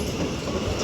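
A London Northwestern Railway train pulls out of London Euston, its wheels and carriages rumbling loudly and close with a faint clatter along the rails.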